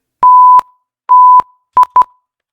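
Censor beep effects triggered from a Stream Deck: loud, clean electronic tones in a Morse-like pattern, two long beeps followed by a pair of short ones, alone with no talk.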